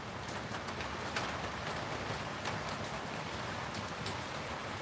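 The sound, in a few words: rain falling in a backyard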